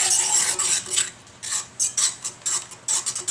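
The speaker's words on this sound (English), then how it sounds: "So we'll put in another piece and keep thickening it with the whisk." Metal whisk scraping rapidly around a cast iron pan while butter is worked into a beurre blanc sauce, producing bursts of bright rhythmic clinking and swishing close up, alone without talk.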